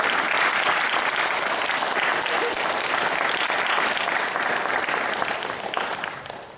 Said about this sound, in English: Let's give another round of applause to...